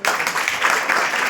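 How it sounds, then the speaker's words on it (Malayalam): An audience at a church vacation Bible school event applauds a boys' group skit, dense rapid clapping sustained at a fairly even, loud level for the whole stretch. "കൊടുക്കുന്നു നല്ലൊരു കൈയടി"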